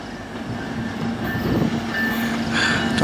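Canadian National 301 manifest freight train rolling past Sarnia station with two CN locomotives, a steady loud rumble of rail cars with a faint whining wheel tone running throughout.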